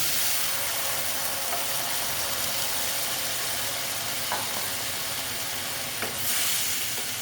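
Soaked moong dal drops into a hot pan, giving a continuous loud sizzle and hiss throughout, with a few faint clicks of utensils near the end.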